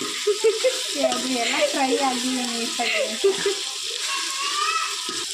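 Vegetables for bisibelebath sizzle and fry in a pan, with stirring scrapes and bubbling while someone talks over the cooking, close and steady.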